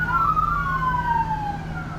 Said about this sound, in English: Sorry if you heard police sirens in the background